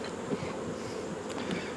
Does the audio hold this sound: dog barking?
no